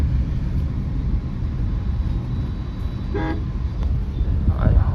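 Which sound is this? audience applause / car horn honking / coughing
car horn honking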